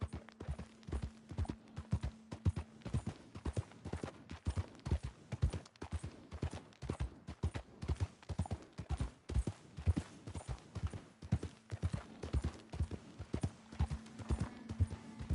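Horse hooves clip-clop in a steady, brisk rhythm on a trail in the Western video game Red Dead Redemption 2. The rhythm continues close and clear for the whole stretch, with a faint low hum in the background at times.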